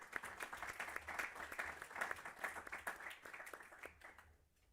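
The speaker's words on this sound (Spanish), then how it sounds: "un aplauso." Audience applause at an international education panel in honour of Agustín Podestá of Argentina, steady dense clapping from a room of listeners that fades out toward the end.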